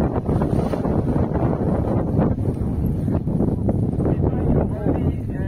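Steady wind buffeting the microphone at a paragliding launch site in Quixadá, a continuous loud rushing roar throughout.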